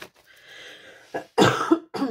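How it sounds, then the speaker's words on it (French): Several harsh coughs burst out close by, a short one followed by a louder, longer fit and a final cough, with a quiet pause before them. "Pardon, je tousse encore."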